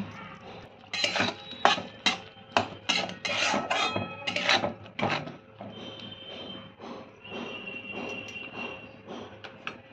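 Metal lid set onto a cooking pot of elephant foot yam left to boil, with a run of clinks and scrapes of metal on metal in quick succession, then a softer rustling hiss near the microphone.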